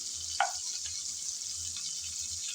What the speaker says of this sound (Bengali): তাই আমি এই অবধি ভেজে তেল থেকে সবগুলো চিংড়ি তুলে নিচ্ছি